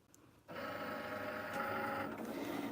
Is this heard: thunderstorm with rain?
no